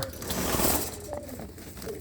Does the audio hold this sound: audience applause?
no